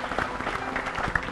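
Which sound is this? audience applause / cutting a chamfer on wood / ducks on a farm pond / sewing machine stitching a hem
audience applause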